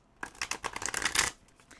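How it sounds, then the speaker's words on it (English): Merlin Tarot cards being shuffled, a quick run of dry riffling card flaps at close range that lasts about a second before it stops. "And a third shuffle to mix them up."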